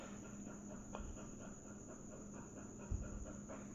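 A puppy pants softly in quick, even breaths, close by but faint against a steady background hum.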